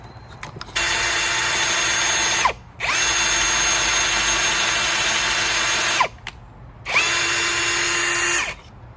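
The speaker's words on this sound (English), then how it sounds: "let's go ahead and drill a hole" A power drill whines loudly in three long bursts into wood for a van cabinet build, each ending as the motor winds down, with brief pauses between.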